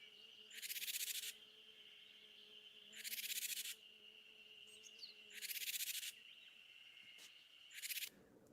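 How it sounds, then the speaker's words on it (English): A Japanese tit's harsh 'jar jar' snake alarm call plays from a loudspeaker outdoors: four evenly spaced, raspy buzzing bursts over faint insect and bird background. "You can see when the jar jar sound is played,"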